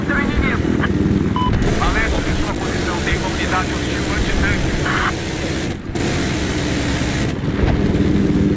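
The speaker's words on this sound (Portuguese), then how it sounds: "Aqui tem um helicóptero inimigo." Enemy helicopter rotor and engine drone in the Battlefield video game, steady and fairly loud under game effects and a player's talk throughout.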